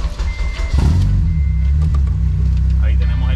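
An Acura RSX engine running on a K-Tuner computer cranks and catches about a second in, then settles into a steady, loud low idle rumble, with voices in the background.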